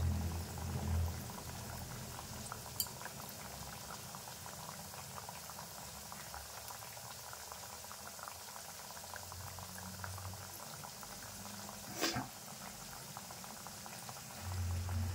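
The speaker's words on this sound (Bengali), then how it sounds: "উল্টে পাল্টে ভালোভাবে ভাজলে ভিতর অবধি ভাজা যায়" Colourful khaja pastries fry in oil over gentle heat, giving a steady bubbling and boiling of the oil throughout, with a brief louder splash or knock near the end and no talking.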